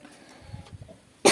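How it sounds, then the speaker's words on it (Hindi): After a near-silent stretch, a woman gives one sudden, loud, harsh cough up close, cut off at the very end. "सॉरी हमें खांसी आ गई थी।"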